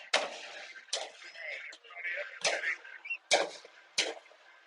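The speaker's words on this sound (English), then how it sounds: "I'm shooting a few firecrackers." Firecrackers set off at a high school football game, several sharp cracks spaced irregularly about a second apart, mid-distance, with crowd and stadium noise and talk between the bursts.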